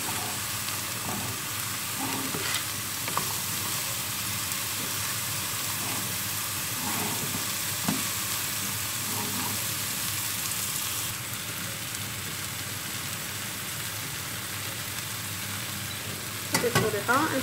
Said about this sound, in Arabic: غادي ندير هاد البصله تشحر، وغادي نضيف عليها من بعد غادي نضيف عليها الكفته او اللحم المفروم